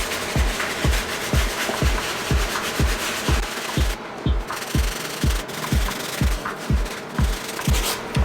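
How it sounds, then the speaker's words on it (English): A soft-bristle brush scrubs the mesh panels of a pair of Off-White Jordan 1 sneakers in quick, rhythmic back-and-forth strokes, a close, continuous scratchy rubbing with steady pulses about twice a second. "We're going to give one last go around with the soft bristle brush on the mesh areas."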